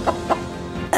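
Clucking from a cartoon-style bird, two short clucks followed by a third at the end, close and fairly loud with no talking.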